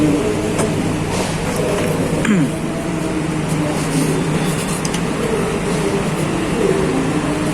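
KA Majapahit economy passenger train rolling into Kediri station, a steady low rumble of wheels and carriage with a brief clank partway through, heard from inside the coach.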